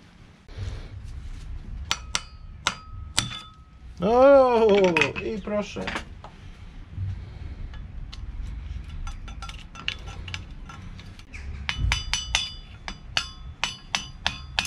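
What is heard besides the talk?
hammer tapping motorcycle steering stem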